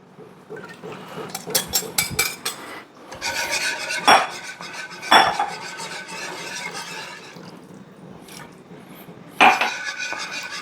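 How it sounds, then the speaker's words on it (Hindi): A wire whisk beating a thinned mixture with water inside a cooking pot, rapid rhythmic metal scraping and rattling in bursts, close and fairly loud with brief pauses between rounds. "पतला करने के लिए इसमें पानी मिलाएंगे। जिस पॉट में आपने बनाना है हम इसी में डाल लेते हैं। विस्क अच्छी तरह कर लीजिए।"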